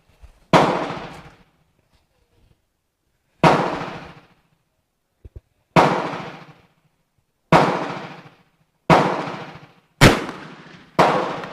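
A Danish 11.7 caliber Rolling Block rifle fires seven loud, booming shots outdoors at irregular intervals of a few seconds, each with a short decaying echo, and a faint metallic click sounds between two of them.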